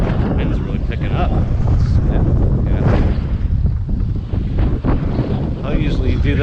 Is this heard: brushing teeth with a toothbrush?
no